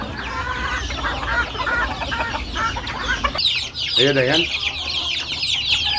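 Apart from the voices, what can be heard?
chickens clucking as they come out of the cage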